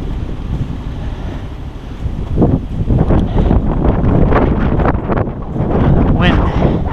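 Wind gusting across an open snowy rural property, a broad steady rushing roar that swells louder toward the end, buffeting the microphone throughout.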